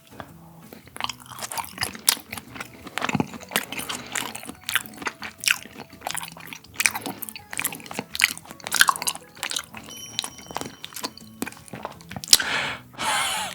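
Close, wet chewing and biting of raw premium Korean beef sashimi (yukhoe-style), soft squishy mastication in repeated irregular bursts with occasional crunchy clicks, alone without talk.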